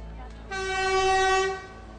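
A train on the Death Railway near Thakramse Station, by the River Kwai, sounds a single loud horn blast lasting about a second over faint background noise.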